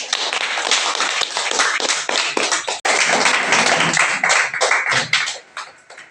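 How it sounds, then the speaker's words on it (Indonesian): A classroom group claps together for a presenting student group, brisk overlapping hand claps that run loud and steady for several seconds. "kita beri aplaus untuk kelompok 2"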